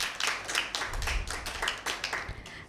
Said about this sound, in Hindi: टीम ए के लिए भरपूर तालियां